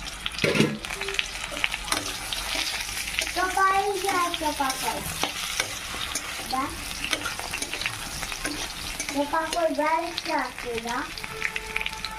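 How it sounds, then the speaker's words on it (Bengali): Pointed gourd (potol) frying in a pan, with a constant crackling sizzle and stirring scrapes, while a voice speaks intermittently over the cooking. "এদিকে পটল ভাজা হচ্ছে।"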